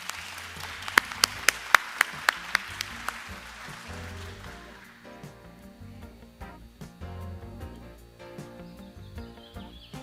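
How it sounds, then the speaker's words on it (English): Audience applause at a World Trade Week ceremony at Port Hueneme, loud with sharp individual claps over the first few seconds, then fading into steady tonal music that carries on alone. "let's give them one more round of applause"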